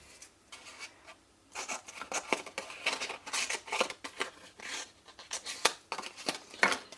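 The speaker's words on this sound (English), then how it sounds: "Maybe slightly smaller scissors would work." Scissors snip through patterned paper as small pearly paper flowers are fussy cut for a small triangular Stampin' Up! bag, giving bursts of close, crisp cutting and rustling with brief pauses.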